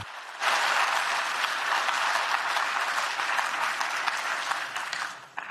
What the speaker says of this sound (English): I think a round of applause for Europe